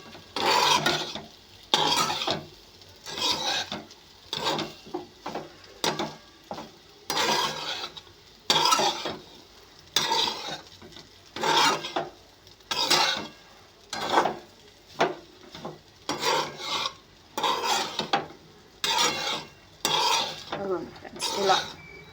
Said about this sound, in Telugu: ఇలా అన్నం వేసేసుకొని ఇలా కలియబెట్టుకోవాలి ఫ్రెండ్స్.